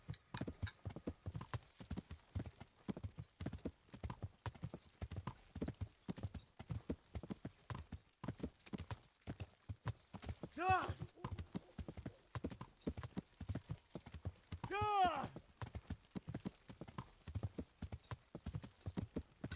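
Horse hooves gallop in Kingdom Come Deliverance, a fast, steady clip-clop rhythm close up throughout, with a couple of short whinnies cutting in midway and near the end.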